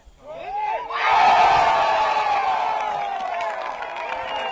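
A disc golf gallery at a professional tournament round erupts into loud cheering and applause after a delayed beat following a made par putt, swelling quickly and then sustaining with whoops before tapering slightly.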